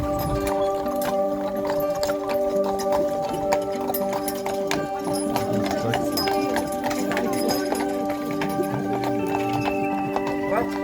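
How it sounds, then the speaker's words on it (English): Steady clip-clop of horse hooves on pavement as a three-horse team pulls a carriage on Mackinac Island, trotting in a quick even rhythm, with a horse whinnying and voices talking in the background. "carriages are pulled by a team of 3 horses and hold 35 passengers"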